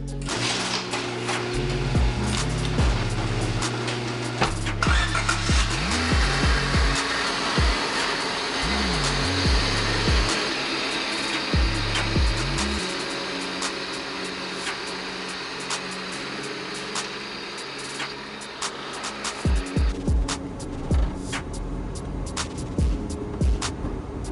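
A 1995 Honda Civic on new MaXpeedingRods SP1 T6 coilovers during a test drive, with steady engine drone and broadband road and wind noise throughout, shifting revs, and a drop in noise near the end.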